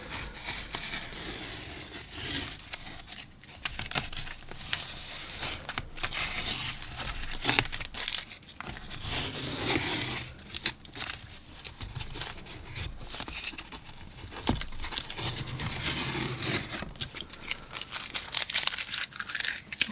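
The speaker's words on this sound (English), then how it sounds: "we'll just peel off the tape here" Masking tape being peeled away from watercolor paper after painting a long grass and wood flower vase scene, giving a run of close crinkling, tearing rasps and soft crackles spread over about twenty seconds, with no talk.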